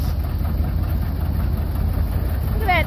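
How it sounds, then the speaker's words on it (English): A John Deere 730 tractor engine runs steadily at close range, a loud, low, throbbing idle with an even pulsing rhythm that continues unbroken throughout. "And the John Deere 730."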